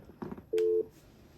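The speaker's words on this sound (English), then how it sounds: "And dial 2001." A telephone on a home FreePBX phone system gives a short soft burst of dialing clicks, followed by one steady, loud tone lasting about a quarter second, heard close and clean with no talk.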